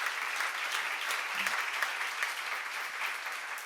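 A seminar audience at a Korean church gathering claps steadily, a continuous dense round of applause throughout with a brief voice underneath.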